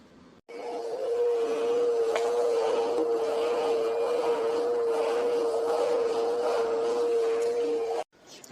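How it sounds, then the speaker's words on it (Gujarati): A household washing machine makes a strange noise: a steady, sustained tonal hum or whine with a faint rumbling texture underneath. It starts abruptly, holds for about eight seconds, then stops. "જોવા દે તો આ મશીનમાં તો કંઈક હાવ અલગ જ અવાજ આવે છે"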